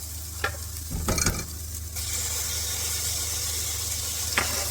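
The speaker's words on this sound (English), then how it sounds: "Let me add the tomato to this now." Tomatoes frying with pork and bottle gourd, a loud steady sizzle that swells as they hit the hot pan, with a few spoon scrapes and clinks of stirring near the start and end.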